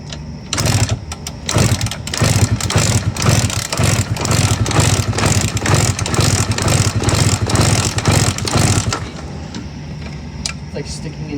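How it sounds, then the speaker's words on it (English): 1999 Suzuki RM 125 two-stroke dirt bike started with the choke on: a loud, rapid, buzzing engine idle that pops and wavers for several seconds, then cuts out abruptly, leaving quiet background. "All right, time to start this bike up."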